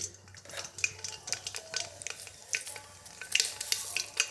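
Mustard seeds crackle and pop in hot coconut oil in a bronze pot, quick irregular spits and clinks close by over a low hiss, with only faint background voice.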